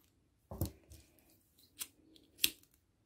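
Scissors snipping crochet thread ends close to the work, three crisp separate cuts spaced about a second apart in a quiet room.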